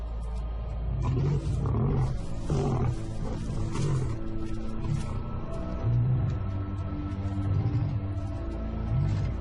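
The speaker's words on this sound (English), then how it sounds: "The pride male roars his final warning." A male lion roars a warning in the wild, a series of deep, rhythmic grunting roars rising and falling over several seconds, close and loud against a low background rumble.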